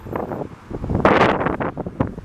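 Gusty wind buffets the microphone in rough, rumbling bursts, loud and close, with no speech, outdoors on the Chemin du Souvenir in Laval, Quebec.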